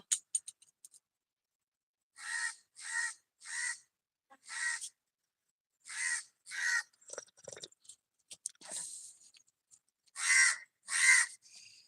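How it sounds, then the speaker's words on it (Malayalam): A crow caws repeatedly nearby, roughly a dozen harsh calls arriving in short clusters with quiet gaps between them. "കാക്ക അവിടെ വന്നിരുന്ന് കരയണ"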